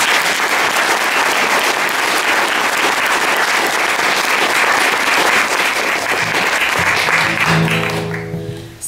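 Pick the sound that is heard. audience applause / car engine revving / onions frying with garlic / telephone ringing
audience applause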